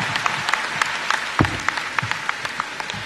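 Applause for President Kenyatta at a school heads conference in Mombasa, a dense burst of clapping from a crowd, loud and continuous, with no speech over it.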